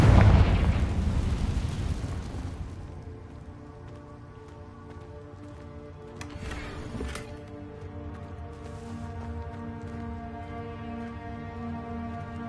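A Confringo spell explosion in Hogwarts Legacy bursts loudly at the start with a deep boom, then decays into a crackling, rain-like rumble under a lingering musical drone, with a second softer burst midway.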